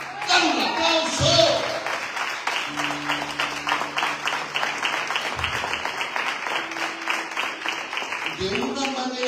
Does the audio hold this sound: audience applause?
yes